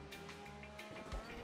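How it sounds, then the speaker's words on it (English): Race car engine in the iRacing sim during the Bathurst 12-hour race, revs dropping through a downshift toward first gear, a steady harmonic drone with a brief low thump near the end. "So you can hear the RPMs. He downshifts to like first through here."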